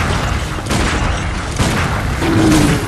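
Gunshots and booming impacts in the Bloodborne video game, a couple of loud bursts over dense rumbling game sound.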